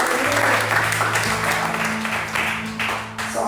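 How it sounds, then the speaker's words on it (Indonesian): Congregation at a church service claps for God, a dense burst of applause from many hands filling the room, with a sustained musical tone, likely keyboard, underneath and faint voices. "Kita beri tepuk tangan buat Tuhan kita dulu."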